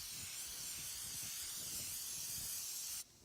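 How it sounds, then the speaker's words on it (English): An aerosol can sprays contact adhesive onto a leather guitar pickguard in one steady, close hiss lasting about three seconds before it stops abruptly. "Hold the can 6 to 8 inches away from the surface to be sprayed, spray a uniform coat."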